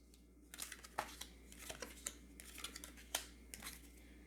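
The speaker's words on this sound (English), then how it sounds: "let's throw down all 5 cards" Tarot cards slapped down on a table one after another, a run of sharp, close papery smacks and flicks in an irregular rhythm with no talking.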